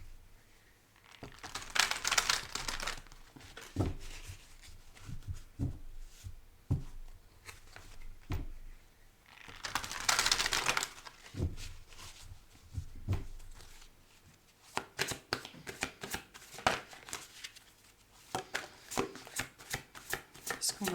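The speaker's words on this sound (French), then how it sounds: "Je vais tirer quelques cartes des blessures du coup." Oracle cards are shuffled and drawn by hand, giving a run of soft papery riffles and crisp flicks and slaps, with two denser shuffling bursts in between. The sounds are close up and there is no talk.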